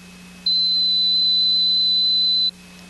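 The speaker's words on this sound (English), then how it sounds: "the digital meter sounds a tone" A digital multimeter's continuity check: one steady, shrill electronic tone lasting about two seconds, loud and close, over a faint low hum, with silence before and after.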